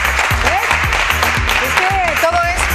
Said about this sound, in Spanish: Luis Pastor, un aplauso